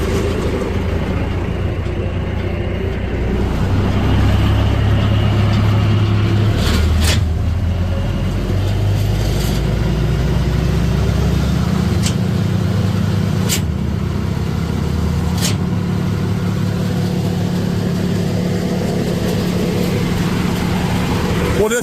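A 2015 Bandit 200UC wood chipper runs with its PTO engaged, its engine rising in pitch as it revs up to a loud, steady roar that holds throughout.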